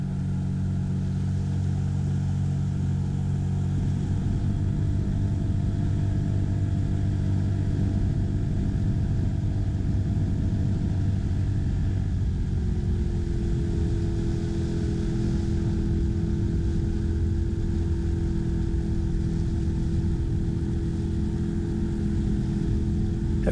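Outboard motor of a small inflatable boat drones steadily at sea, a constant close rumble whose pitch shifts partway through as the throttle changes.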